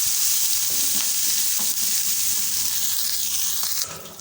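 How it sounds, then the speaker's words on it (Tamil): Ginger, green chilli and curry leaves tempering in hot oil in a pan, a strong continuous close-up sizzle with occasional stirring scrapes that fades away at the very end. "இஞ்சி பச்சை மிளகா கருவேப்பிலை சேர்த்துடலாம் சேர்த்து கலந்து விட்டுப்போம் எல்லாமே கொஞ்சம் தாளித்து ரெடியாகட்டும்"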